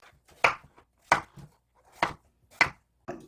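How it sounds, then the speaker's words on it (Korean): Peeled pumpkin being chopped into pieces with a knife on a board for pumpkin porridge, five sharp, evenly spaced cutting thuds, close and clear. "껍질을 다 깠으면 이렇게 뚝뚝 잘라서"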